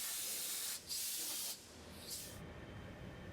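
Compressed air blowdown hissing in loud, steady bursts, one short and one longer, with a fainter brief puff after, over a low background rumble and no talk.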